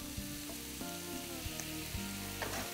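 Vegetables fry in a pan with oyster sauce, a low, steady sizzle broken by occasional stirring knocks and scrapes, with no speech.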